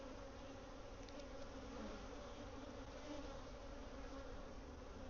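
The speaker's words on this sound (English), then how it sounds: "They got a lot of bees in here." Dense, steady buzzing of many honeybees inside a hive with swarm cells, a continuous droning hum up close.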